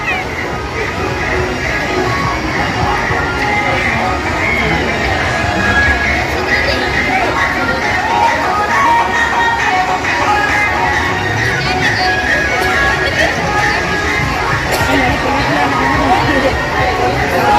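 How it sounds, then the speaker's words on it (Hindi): Dense crowd hubbub fills a busy Narsinghnath temple fair, a steady wash of many overlapping voices and chatter with faint scattered clatter, continuous and close all around. "जबरदस्त भीड़ है।"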